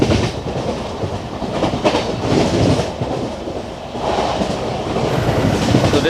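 The Deccan Queen LHB passenger train rolls along the tracks with a loud, steady rumble and a faint rhythmic clatter from the wheels, heard up close as if from on board, with no voices.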